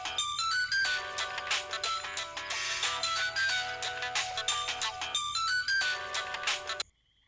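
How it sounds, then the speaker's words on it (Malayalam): A phone rings with a bright electronic melodic ringtone, repeating phrases loudly for several seconds before cutting off abruptly, heard alone in a Malayalam movie scene. "നിതു, ഫോൺ കട്ട് ചെയ്തേക്ക്."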